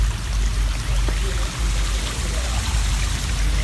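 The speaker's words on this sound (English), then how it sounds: "Go over here and look at this creek." Spring-fed creek water flows steadily in Proctor Springs, Cameron Park, Waco, Texas, a close, continuous rushing and trickling wash that fills the whole short stretch with no clear pauses.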